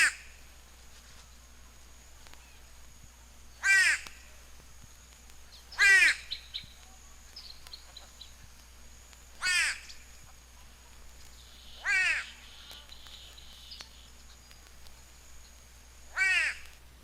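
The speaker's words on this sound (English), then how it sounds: "The white-bellied go-away bird has a loud, rude-sounding call" A white-bellied go-away bird gives five loud, nasal, downward-slurred calls spaced a few seconds apart, each standing out clearly against a quiet outdoor background.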